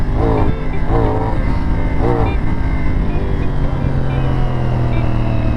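CFmoto 450NK motorcycle engine pulling hard in second gear around 5,000–6,000 rpm, a steady loud drone with rising pitch sweeps during acceleration, close and continuous throughout.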